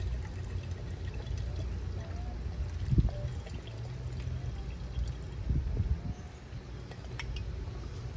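1992 Montrachet white wine being poured quickly from a bottle just after the cork is removed, a soft, continuous liquid pour with a couple of gurgling surges, close and fairly quiet.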